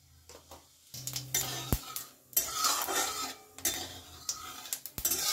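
Whole cumin seeds sizzle in hot oil while a utensil stirs them in a pan, giving a steady crackling fry with scraping clinks and a few sharp metallic taps.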